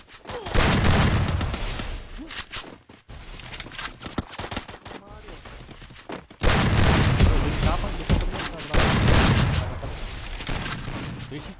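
Rapid bursts of Free Fire gunfire crackle in dense volleys, loud and continuous, with a voice talking underneath.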